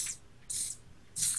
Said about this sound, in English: Here, I'm gonna spray paint on my wall.